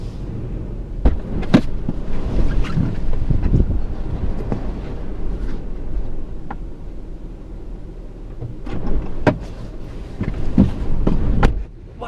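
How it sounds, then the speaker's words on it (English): Strong blizzard wind roars steadily outdoors and buffets loudly against the microphone, with gusty rumbles and repeated sharp knocks and thumps throughout. "Wow, that is windy out there."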